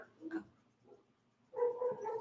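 Dogs barking nearby in a home kitchen during garlic bread prep, a short bark early on followed by a louder burst of several barks and yips near the end.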